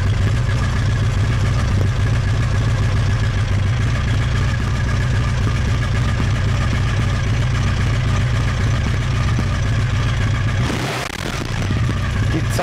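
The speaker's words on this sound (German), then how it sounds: "starten wir die Maschine nochmal an." A Honda VF750 Sabre motorcycle engine idles loud and close in a steady, continuous drone, briefly dipping and shifting near the end.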